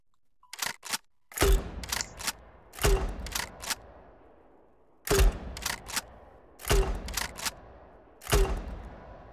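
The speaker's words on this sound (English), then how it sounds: "The next one is the grenade launcher." Grenade launcher firing in the video game XLR: about six heavy, booming shots spaced a second or two apart, each a sharp blast with a rumbling tail, loud and alone.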